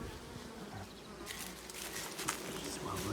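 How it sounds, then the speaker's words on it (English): Honey bees buzz around the entrance of a hive outdoors, a dense, faint swarm hum with individual insects droning past, growing fuller as more fly in and out. "So we got a lot more bees going in and out."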